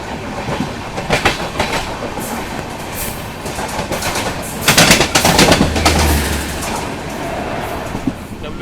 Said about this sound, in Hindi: भाई साहब हम लोग ओवरटेक कर रहे हैं ट्रेन नंबर 10106 सिंधु दुर्ग एक्सप्रेस को।